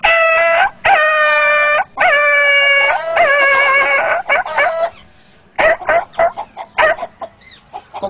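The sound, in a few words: man imitating a dog barking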